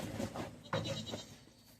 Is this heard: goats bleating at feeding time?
yes